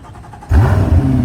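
BYD car engine started by remote, a quiet idle hum abruptly rising into a loud, steady running drone about halfway through, with no talk.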